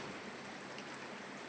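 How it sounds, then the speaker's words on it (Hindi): Steady rain pours down in the early morning around 4:40, a dense, even hiss without breaks, close and continuous with no voices. "बारिश ना जाने कब से लगी है"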